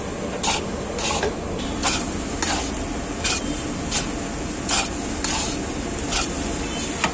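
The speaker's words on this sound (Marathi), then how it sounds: "आता सगळं तुम्ही मिक्स करून घेता ना?" Poha being stirred and mixed in a pan at an Indian street-food stall in Nashik, with steady scraping and rubbing strokes repeating in an even rhythm over a constant background hiss, close and moderately loud.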